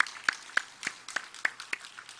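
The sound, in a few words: congregation applause in church service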